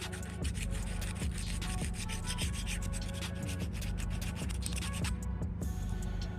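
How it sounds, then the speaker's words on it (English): A hand file rasps a small burr off a metal flange on an oil return line for a 4G63 Eclipse, making steady close scraping strokes over a constant low engine-bay hum. "I'm just gonna take a file"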